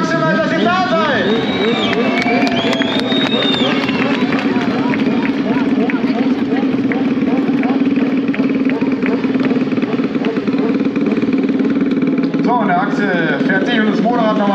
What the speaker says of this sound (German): Fährt sich das Motorrad noch mal ein bisschen warm.